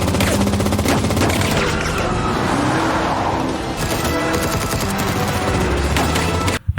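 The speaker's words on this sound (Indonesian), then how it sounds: "Di sana Ana langsung ikut baku tembak." Dense gunfire from a shootout between soldiers, sustained loud bursts of shots layered with heavy rumbling noise, continuous and close, ending abruptly.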